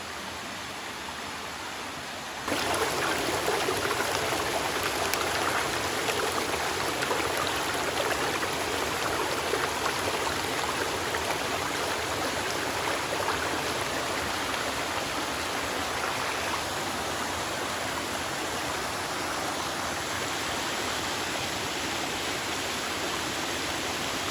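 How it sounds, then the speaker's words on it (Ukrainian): Lazny waterfall in the Ukrainian mountains roars as a steady, loud broadband rush of falling water and stream flow, starting abruptly after a quiet moment and continuing unbroken. "Це ми вже спустилися в самий низ до водоспаду."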